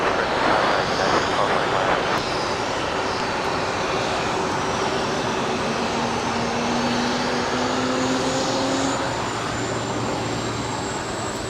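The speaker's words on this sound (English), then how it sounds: "United 1224 Heavy out here, runway 25 right at the full length" United Heavy jet taking off from LAX runway 25 right, a loud sustained engine roar with rising whining tones, heard from the ground at some distance.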